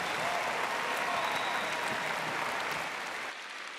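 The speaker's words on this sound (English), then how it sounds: "Encore une fois, nos applaudissements pour son Excellence le vice-président du Kenya" Dense, sustained applause from a large conference audience at the YouthConnekt Africa 2022 grand opening in Kigali, loud and even throughout before dropping off abruptly near the end.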